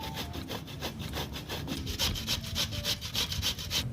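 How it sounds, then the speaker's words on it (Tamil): Potato and ginger being grated by hand on a kitchen grater for sago vadai, a steady rhythmic rasping scrape repeated in quick strokes, close and alone. "இப்போ இந்த உருளைக்கிழங்கையும் இஞ்சியையும் கிரேட் பண்ணி எடுத்துக்கலாம்."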